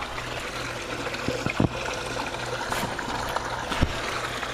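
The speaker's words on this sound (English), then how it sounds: "I'm just going to go ahead and get some water in the DE scoop and try to rinse that in." Water splashes and trickles as it is poured into a scoop to rinse diatomaceous earth near a pool skimmer, with a few sharper splashes over a steady low outdoor hum; nobody speaks.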